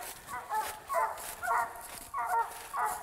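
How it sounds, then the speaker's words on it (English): A loud dog barks repeatedly at a squirrel sport-dog competition, about five bursts in a steady rhythm over three seconds, nearby and dominant over faint background noise. "You got to get away from his loud dog."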